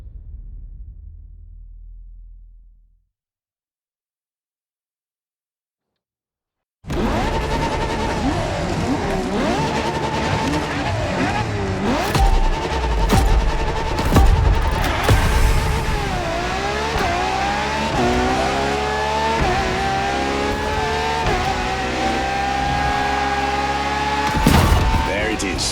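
Ferrari LaFerrari hybrid supercar in The Crew Motorfest video game: after a brief quiet gap, a loud engine roars and revs continuously, rising and falling through gear changes with tire noise.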